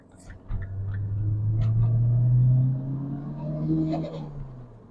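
A JCW Mini's engine drones and swells as the car corners hard on a closed circuit, a steady mid-distance rumble rising and easing over several seconds.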